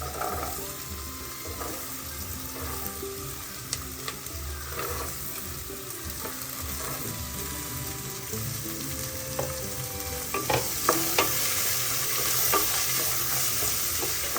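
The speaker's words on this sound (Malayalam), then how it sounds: "ഇനി ഇതിലേക്ക് എടുത്തു വെച്ച പച്ചക്കറികൾ ചേർത്ത് കൊടുക്കാം." Vegetables stir-frying in a pan for Kerala pulao, a continuous close sizzle with scraping and clinking stirs that grow busier toward the end, heard alone without talk.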